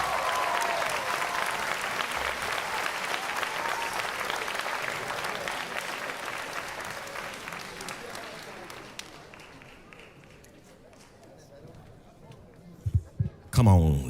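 A graduation audience gives a speaker a long round of applause, loud at first, then gradually thinning and fading out, with a few thumps and handling noises at the end.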